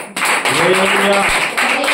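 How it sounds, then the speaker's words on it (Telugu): A church congregation claps hands during Sunday worship, a broad wash of clapping under a speaking voice, steady and fairly close for a couple of seconds. "చప్పట్లు కొట్టండి"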